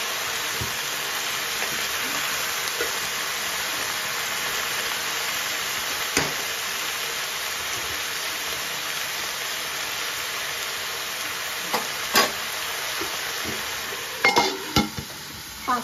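Malabar spinach frying in a pan while being stirred, a steady, close sizzle that runs throughout with a few sharp scraping clicks toward the end.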